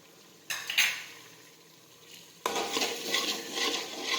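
Stirring pav bhaji vegetable mix in a pot: a brief scraping burst, a short pause, then a louder stretch of steady spoon scraping and stirring against the pot, close and with no voice.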